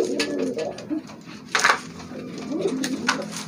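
Racing pigeons coo nearby in soft, repeated throaty calls, with light rustling and faint background noise between the coos.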